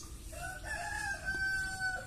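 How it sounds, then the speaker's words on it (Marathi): A rooster crows a long cock-a-doodle-doo among chickens at a rural home with a wood-fired stove, the call carrying clearly over low background rumble. "कोंबड्यांना सोडली ना आता,"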